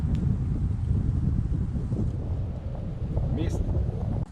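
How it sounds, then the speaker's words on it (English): Strong wind gusts roar and buffet the microphone steadily, a low rumbling rush that continues throughout with faint rustling. "It's getting windy now, or it got windy already"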